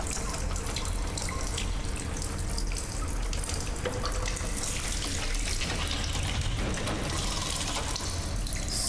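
Water running steadily into a sink in the video game Stasis, a continuous broadband splashing flow that holds at an even level for the whole stretch with no talk over it.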